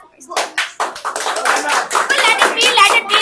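Hand claps from several students during a classroom English debate, a scattered burst of clapping that grows into an uneven round, with voices talking over it.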